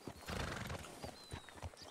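A horse in the video game RedM clops its hooves at a walk and gives a whinny, the sounds fairly faint and close, with no talk.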